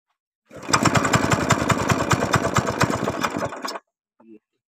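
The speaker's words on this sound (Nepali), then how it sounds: "ल अब मैले चाहिँ यो ट्र्याक्टर स्टार्ट गर्नुपर्ने हुन्छ।" A tractor engine cranks and catches, running with a fast, loud, steady chugging pulse for about three seconds before cutting off abruptly, followed by a brief faint knock.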